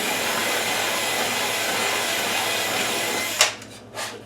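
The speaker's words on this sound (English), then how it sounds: "the only reason I'm drilling these rivets out, this particular set" A power drill whirs steadily and loudly while drilling out rivets, then cuts off, followed by a couple of short final bursts.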